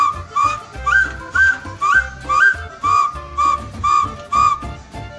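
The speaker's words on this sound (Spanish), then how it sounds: "Tengo este silbato que es de la rana. Óiganlo como suena." A frog-shaped clay whistle is blown in about nine short, evenly spaced chirping toots, each with a warbling pitch flick, loud and close with nothing else heard.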